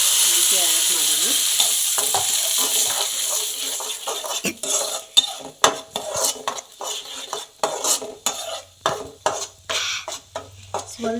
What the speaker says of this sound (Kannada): ಸ್ವಲ್ಪ ಮಿಕ್ಸ್ ಮಾಡೋಣ ಅದನ್ನು.